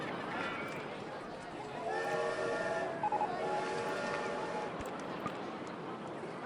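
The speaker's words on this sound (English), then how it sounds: "Haunted train in the way." A haunted train ride runs in RollerCoaster Tycoon 2, with a steady rumbling rail clatter and sustained whistle-like tones in the middle, under a busy game soundscape.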